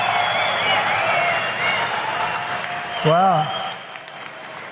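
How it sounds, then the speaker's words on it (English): A crowd at a Bitcoin conference in Nashville roars and applauds in a sustained, reverberant wave, and a voice briefly exclaims over it near the end. "He got the crowd going wild"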